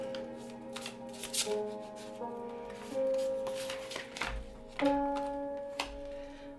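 Tarot cards being shuffled in quick riffling bursts, with soft slaps and taps of the deck between shuffles, close and fairly quiet.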